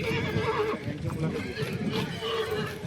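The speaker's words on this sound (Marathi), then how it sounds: "बघा मित्रांनो घोडा पण छान आहे, दिसायला सुंदर आहे" A horse at a horse market neighs and whinnies amid continuous crowd chatter and nearby talking, with hoof clip-clops and other market noise filling the background.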